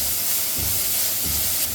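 Grated coconut dry-roasting in a pan over a low flame for pacha sundakkai thokku gives a steady loud hiss and sizzle, close and continuous, with no voices.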